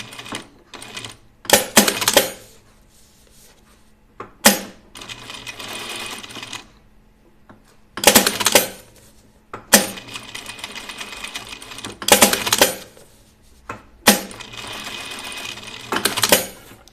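A sewing machine runs in several rapid bursts, its needle clattering loudly, separated by short pauses and quieter handling noises.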